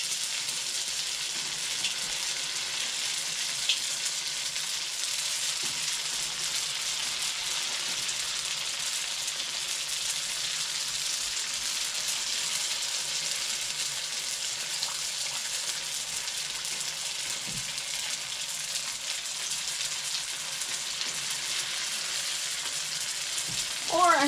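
Crab rangoon frying in hot oil gives a steady, even sizzle and hiss that runs unbroken and fairly close, with a few faint bubbling pops and no voices.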